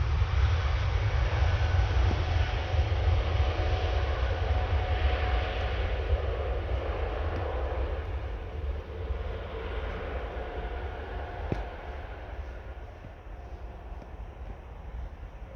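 An Air France Airbus A320 at full power on its takeoff roll at Paris Orly airport gives a loud, deep, continuous engine roar that slowly fades with distance.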